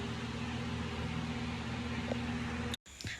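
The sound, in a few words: loud electric fan running in the room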